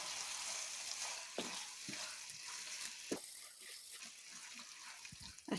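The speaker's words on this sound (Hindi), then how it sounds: "और फ्राई होने देंगे। और फिर इसको मिलाएंगे।" Spring onion and egg frying in a pan in a Kashmiri-style home kitchen, a steady close hiss of sizzling oil with occasional sharp clicks of stirring, and no speech.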